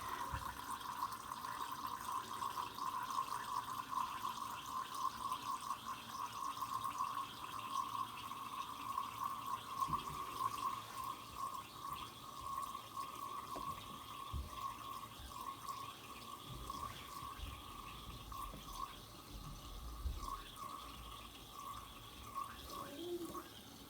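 Titrant runs from a burette during a redox titration, a continuous thin trickling hiss lasting over twenty seconds, steady and fairly quiet, with only faint background noise.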